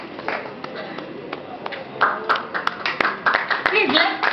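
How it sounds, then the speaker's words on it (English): A small audience at a construction industry event claps scattered and uneven, individual claps standing out, building somewhat louder toward the end with some background voices. "Please, a round of applause."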